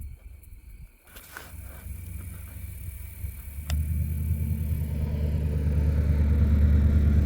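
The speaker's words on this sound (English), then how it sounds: "We got another car coming through here" A car passes at night near a graveyard, a low rumble that starts faint and grows steadily louder and closer, ending as a heavy, close engine drone, with no talking.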